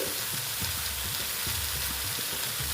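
Okra sautéing and sizzling in a hot pan for a Bengali okra and masoor dal dish: a steady close crackling fry with soft rhythmic stirring scrapes, no talking.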